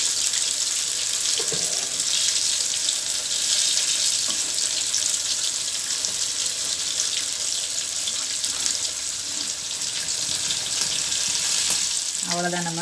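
Fish deep-fries in hot oil with a loud, continuous hissing sizzle that holds steady throughout, plus a few soft clinks near the end, and no one speaks.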